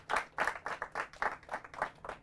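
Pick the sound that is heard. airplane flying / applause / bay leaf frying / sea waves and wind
applause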